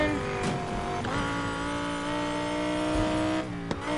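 Race car engine with tire squeal in Need for Speed Heat: a steady, loud high-pitched engine drone with sustained tonal whine, a brief skid near the end, and no talk.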